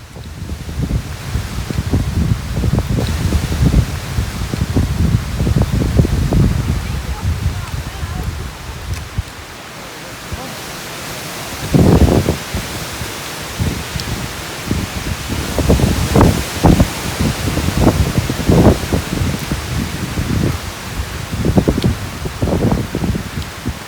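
Steady wind rushing and buffeting with rain on a mountain hiking trail, gusts swelling and fading over a broad hiss, loud and close throughout.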